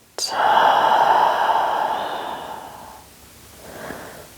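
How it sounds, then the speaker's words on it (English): A single slow, deep breath drawn in and let out, close and soft, the airy inhale swelling then fading into a gentle exhale in a quiet room, with no talking. "Taking a deep breath in and a deep breath out"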